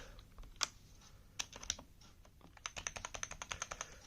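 Someone types on a custom mechanical keyboard with tactile switches, producing sharp, close clicks, first scattered single presses, then a quick steady run of keystrokes, without any talking.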